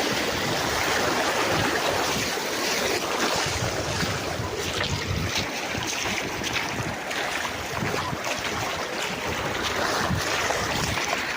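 Fast-rushing water in a forest stream or river, a steady loud broadband roar with wind buffeting the microphone, continuous throughout without pause.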